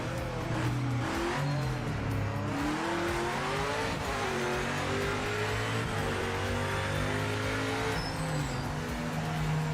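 A black Audi-badged racing car's engine revs continuously in Project Motor Racing, rising and falling through gear changes with steady high-pitched whine, loud and close, with occasional tire noise and no talking.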